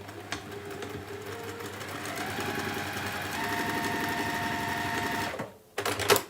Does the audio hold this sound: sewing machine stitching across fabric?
yes